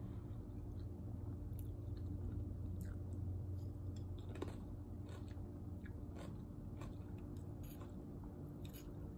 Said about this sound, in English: You can hear the ginger, it's crunchy.